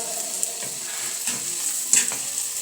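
Whole cumin, onion, garlic and green chili frying in a pan, a steady bright sizzle close up with a few soft stirring knocks and no voices.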